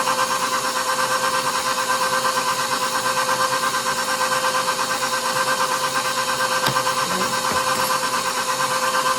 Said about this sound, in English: Mix that in very well. Stop it and scrape the bowl.